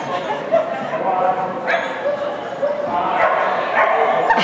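Excited dog barking and yipping during a USDAA agility run, several sharp yips and bow-wows spread through the stretch, loud over a handler and spectators talking throughout.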